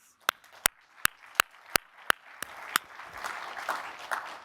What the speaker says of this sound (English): can we just give a quick round of applause to them, please?